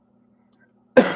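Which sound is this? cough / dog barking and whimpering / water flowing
cough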